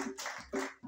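A church congregation applauds during a worship service, a short burst of brisk, dense clapping that swells, dips briefly and picks up again.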